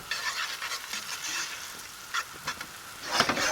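Olives and finely chopped sun-dried tomatoes fry in a pan, giving a steady soft sizzle with occasional louder spits and stirring scrapes, heard alone without talk.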